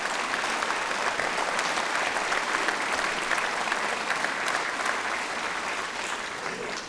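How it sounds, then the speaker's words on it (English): Sustained audience applause for first responders at the opening of a state legislative session, a dense, steady wash of many hands clapping throughout without pause. "I think we should give our first responders a great round of applause for what they're doing for us today."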